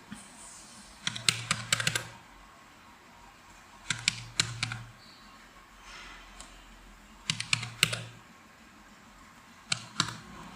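Bursts of fast typing on a computer keyboard entering a bank account number, four clusters of crisp close key clicks separated by short quiet pauses, no talk.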